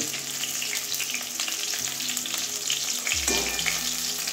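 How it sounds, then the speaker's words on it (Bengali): Pointed gourd (potol) frying in oil in a pan: a steady, close, crackling sizzle throughout, joined near the end by a low rumbling hum, with no voices. "যেহেতু আলুটা সিদ্ধ করে নিয়েছি, এই জন্য পটলটা একটু ভালো করে ভেজে নিয়েছি"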